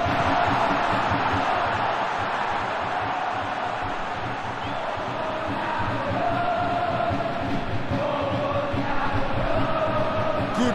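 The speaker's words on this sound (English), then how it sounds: "Crowd appreciates good football all round there" Stadium crowd in PES 2021 during a Persikabo 1973 vs PSM Makassar league match, a steady loud roar with rising cheers and chanting swells throughout.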